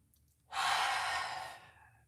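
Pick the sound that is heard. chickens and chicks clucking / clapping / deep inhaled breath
deep inhaled breath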